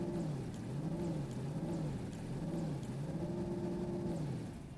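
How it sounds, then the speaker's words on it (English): A hearse vehicle in Fortnite revs its engine in repeated cycles, the pitch rising and falling in a steady wave-like pattern several times, fairly quiet and alone, tapering off at the end. "I'm just gonna rev the engine off the hearse a little bit."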